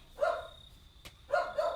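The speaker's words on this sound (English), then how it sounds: "I don't know what she's barking at." A dog barks twice in quick pairs, fairly close, with a brief click between the bursts.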